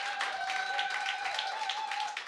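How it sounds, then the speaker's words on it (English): Audience applause in a church gathering, a steady even patter of many hands clapping at moderate distance, with a faint tone humming beneath it. "Let's give a round of applause"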